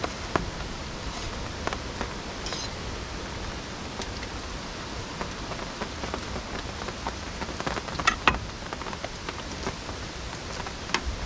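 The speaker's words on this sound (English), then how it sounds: "It's like I'm under rain right now." Steady rain falling on surfaces around a solo campsite, a constant close hiss with scattered louder drips and taps throughout.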